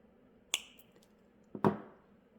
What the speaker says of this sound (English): I'm going to go ahead and cut this tail